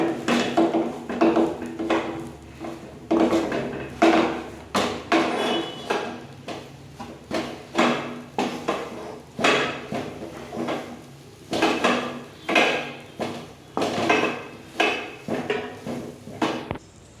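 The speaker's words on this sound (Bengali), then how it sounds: "তো এবার এটাকে কিন্তু খুব ভালো করে কিন্তু মিক্স করতে হবে" Pea filling being mixed with gram flour in a frying pan for koraishutir kochuri, a spatula knocking and scraping against the metal in a steady repeated rhythm of loud close strikes, alone without talk.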